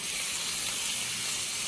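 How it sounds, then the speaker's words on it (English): Chicken thighs sizzling in a hot pan, a steady soft hiss and crackle throughout, fairly quiet and close, with no speech. "We're gonna lay them into here, a nice little sizzle."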